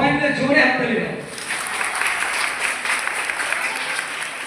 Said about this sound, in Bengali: তাদের জন্য একবার সবাই মিলে জোরে হাততালি দাও